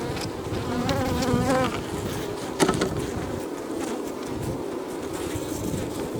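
A dense, steady insect hum of many honey bees buzzing close by inside a log hive, with a brief sharper knock partway through.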